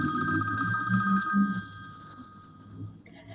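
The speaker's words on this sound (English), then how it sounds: "We got a phone call there." Telephone ringing with a bright electronic bell tone that sustains and then fades, mixed with faint low background murmur, fairly close.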